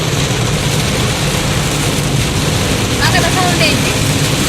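Heavy rain falls in a steady, loud wash of broadband hiss with a low rumble beneath, and a brief voice surfacing partway through.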